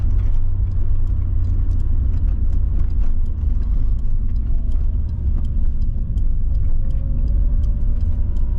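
The engine of a 30-year-old Mk3 Toyota Supra runs with a loud, steady low rumble and rattle from inside the cabin, with faint squeaks over the drone.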